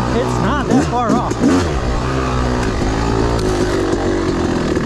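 A Yamaha YZ 250 two-stroke dirt bike with a woods setup, its engine revving in quick rising and falling bursts during a ride, then settling into a steady buzzing drone. The engine is close and loud, with a voice talking over it.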